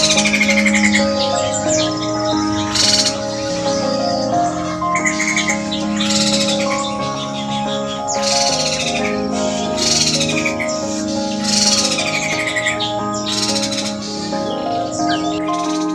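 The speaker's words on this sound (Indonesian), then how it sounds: "Burung poksai jambul Sumatera itu memiliki nama ilmiah Garrulac bicolor dengan nama Inggris Sumatran lodging thrush" A Sumatran laughingthrush (Garrulax bicolor) gives lively, repeated chirps and whistled calls in quick bursts, loud and close over a steady tonal background.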